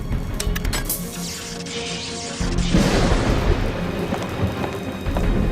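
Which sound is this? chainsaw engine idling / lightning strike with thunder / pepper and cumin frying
lightning strike with thunder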